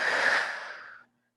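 One long exhale during a Pilates twist exercise, a close, breathy whoosh that fades gradually over about a second before falling silent.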